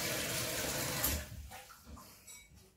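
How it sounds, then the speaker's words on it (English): Water poured from a jug or tap into a pot holding rabbit meat for a rabbit pie, a steady close splashing rush for about a second that then thins to a softer trickle and fades. "we're going to put a bit more water in."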